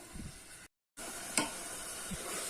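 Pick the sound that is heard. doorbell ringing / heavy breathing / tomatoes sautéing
tomatoes sautéing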